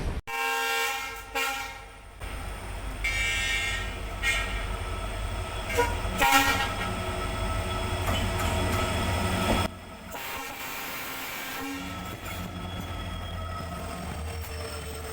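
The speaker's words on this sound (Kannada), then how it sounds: "ಎರಡೂ ಟ್ರೈನು ಮುಖಾಮುಖಿ ಆದಾಗ ನೋಡಿ ಟ್ರೈನು ಕ್ರಾಸಿಂಗಿಗೆ ನಿಲ್ಲಿಸಿದ್ದಾರೆ" Two express trains meet and pass at a crossing loop, one of them the Karwar–Yashwantpur Express, giving a loud rolling clatter of cars with short horn toots and a sustained rumble that shifts midway as the second train goes by.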